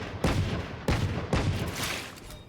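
Gunfire in the video game Valorant: three sharp, loud shots spaced roughly half a second apart, each followed by a short echoing tail, with no talk.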